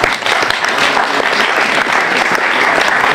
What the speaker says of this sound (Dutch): Eerst mag ik een hartelijk applaus voor burgemeester Lucas Bolsjes